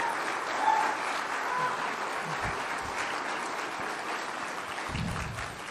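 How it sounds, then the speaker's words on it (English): A large audience at the Chicago Economic Club gives a standing ovation, with sustained dense applause filling the room at a steady, loud level throughout, without pause. "Standing ovation."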